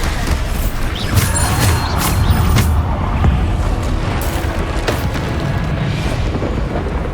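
A Bombarda spell explodes amid combat in the Hogwarts Legacy video game, producing a loud, dense blast with rumbling crashes and debris that fill the whole stretch.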